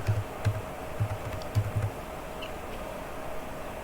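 Keystrokes on a computer keyboard, a handful of quick soft taps in a short burst followed by quiet, fairly close and moderately quiet.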